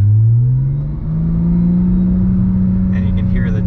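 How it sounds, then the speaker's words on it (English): A turbocharged 800hp Porsche GT3 Cup car engine revs close by with a rising, steady drone and a faint turbo whistle, and a voice is heard briefly near the end. "you can hear the turbos, like, I call it taxiing. Because it sounds like a jet taxi"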